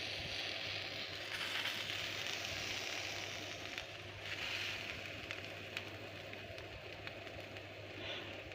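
Continuous crackling sizzle of lavash flatbread cooking on a hot grill pan over a gas flame, steady and close, with a low hum underneath.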